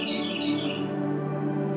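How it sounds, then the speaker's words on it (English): Several bright bird chirps and tweets ring out outdoors during a yoga session, clustered in the first second and then fading, fairly faint over a steady background hum. "Listen to those birds."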